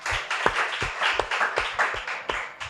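A small audience at a legal technology panel session claps for themselves, sparse and uneven claps from a few nearby hands in a loose rhythm, each clap sharp and distinct.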